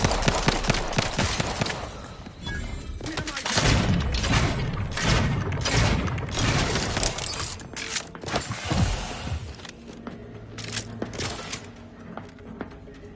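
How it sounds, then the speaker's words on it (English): An explosion in the video game The Outer Worlds 2 bursts out as a dense, loud roar of booms, crackling debris and thuds that fades into lingering rumble and clatter over about thirteen seconds. "An explosion!"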